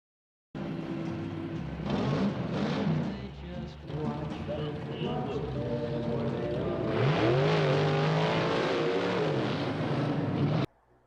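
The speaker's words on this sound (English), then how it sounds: "I've never heard such a sweeter sound than an old big block Chevrolet clearing its throat." An old big block Chevrolet engine revs loudly under a mix of voices, its throaty roar rising and falling continuously, with a stronger surge near the end before cutting off.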